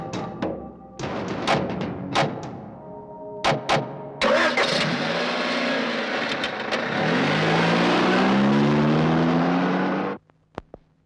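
A vehicle engine cranks and fires amid several sharp thumps, then settles into a steady idle and revs up with a rising whine as it prepares to back up, cutting off abruptly near the end.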